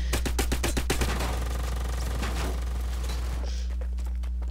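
Rapid gunfire from a video game battle in a building-and-shooting match, with a fast burst of shots at the start and then continued dense, loud game noise and clatter.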